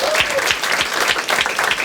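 An audience at a Marathi stand-up comedy show claps in dense, steady applause, loud and close throughout, without talk.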